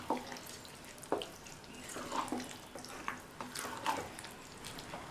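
Tempering is mixed into curd rice, making soft wet squelches and light clicks of a spoon against the dish at an uneven pace, fairly faint, with no speech.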